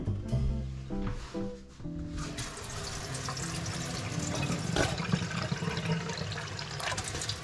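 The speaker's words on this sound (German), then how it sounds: "Und jetzt dazu nochmal Wasser nehmen" Water runs steadily from a tap into a pot of broth with Weißwürste in a kitchen, a continuous close splashing and gurgling fill lasting several seconds with a few brief clunks at the start.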